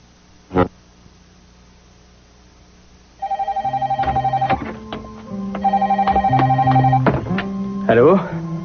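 A telephone ringing in repeated electronic trilling bursts, loud and close, preceded by a single sharp knock and ending in a brief clatter as it is picked up.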